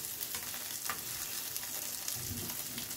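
Thin reconstituted mini burger patties frying in a pan, giving a steady close sizzle with small crackles and a soft shift of the food near the end, with no one speaking.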